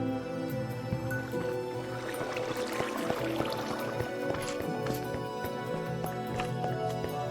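Water flows and trickles in a Minecraft-style game while a kelp farm is being built. Soft drips and liquid gurgles repeat steadily at a moderate, fairly quiet level throughout.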